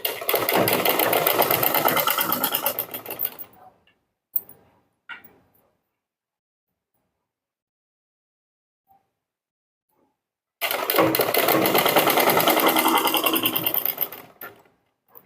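A sewing machine stitches the back neck of a blouse in two close, loud, rapid runs of about four seconds each, separated by a long quiet pause with a few faint clicks.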